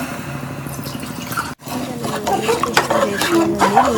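Water used to rinse the masala is poured into a pot of fried masala and two glasses of washed rice for a Sunday mutton biryani, giving splashy, bubbling pours after a brief pause, with a voice speaking over it.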